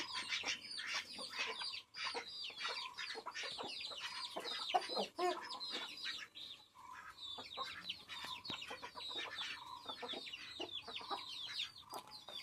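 Guinea fowl and ducks call outdoors, a busy stream of harsh, repeated chattering and clucking cries that overlap one another at moderate distance, with no talk.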